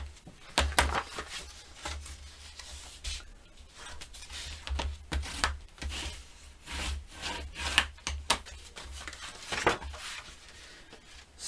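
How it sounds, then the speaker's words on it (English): Paper folded and burnished along score lines for a handmade mini album, making steady rubbing and scraping strokes in an irregular rhythm, close and fairly quiet. "I'm going to fold and burnish on the score lines"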